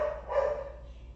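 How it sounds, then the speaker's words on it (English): A dog barks once in a short, muffled bark, somewhat distant, over low background hum. "Man, the dog's just going."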